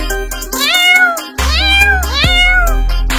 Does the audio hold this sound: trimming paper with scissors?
no